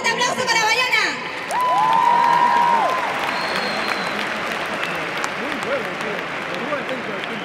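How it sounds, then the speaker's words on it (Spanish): Loud audience applause and cheering at a cosplay contest stage, a dense wash of clapping with whoops, alongside voices and a whistle-like tone, fading slightly but continuing throughout. "un fuerte aplauso para Bayona"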